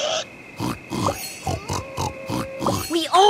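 Pigs grunt and oink at a farm in the Thomas & Friends Magical Tracks video game, a steady series of short snorts, close and fairly loud, with a tonal hum and chirpy game sounds underneath.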